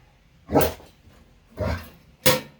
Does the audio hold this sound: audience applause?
no